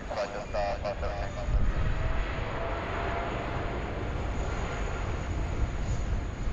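A passenger airplane takes off from Sydney Airport, its engines producing a steady, broad roar that holds at an even loudness throughout, with a person talking over the engine noise at the start.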